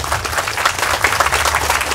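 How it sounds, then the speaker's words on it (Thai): An audience at an agricultural event at Ubon Ratchathani University applauds to welcome a government minister, dense steady clapping from many hands filling the space, with little talk beneath. "เราจึงขอเสียงปรบมือต้อนรับท่านรัฐมนตรีครั้งหนึ่งครับ"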